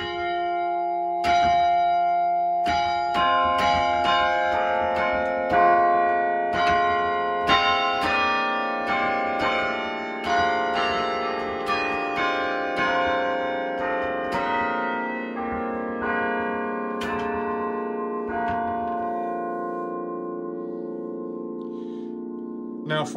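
Carillon bells at Bryn Mawr Presbyterian Church ring very loud and close in a sequence of struck tones, each chime overlapping and sustaining into a long resonant ringing that slowly decays.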